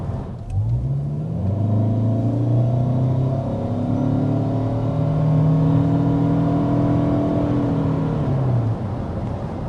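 A 2026 Toyota Camry XSE hybrid accelerating hard, its engine and motor note climbing in a loud, steady surge that holds for several seconds, heard alone with no talking.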